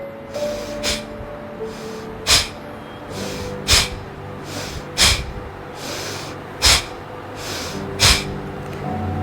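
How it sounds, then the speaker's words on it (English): Forceful exhalations in a seated breathing exercise, hands on knees, each jerked puff of air pushed out as the belly pulls in, repeating roughly every one to one and a half seconds, close and loud over softer breaths between. "pulling the tummy in and throwing the air out with a jerk"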